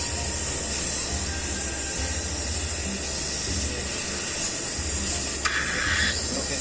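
Gas pressure is released from AC pipes during flushing, a loud continuous hiss of escaping gas that holds steady throughout, close by, with a brief change in tone near the end.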